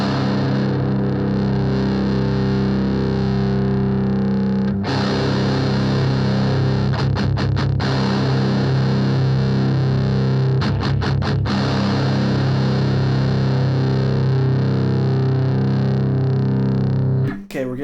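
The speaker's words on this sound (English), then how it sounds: "we're getting distorted ring out. We're like as the note rings out, we're getting distortion." Electric guitar played through a Sondery metal distortion pedal at a low gain setting, sustained distorted notes ringing out continuously with a few quick rhythmic chugs, loud and close, alone without talk.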